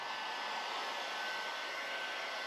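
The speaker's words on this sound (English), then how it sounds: "heat gun, just gradually heat it up slowly and evenly" A heat gun blows steadily on a half-inch-thick plastic sheet being warmed for bends in a custom center console, a constant airy whoosh held close and unchanging throughout.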